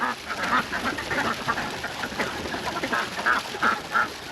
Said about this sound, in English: Little duck action to start.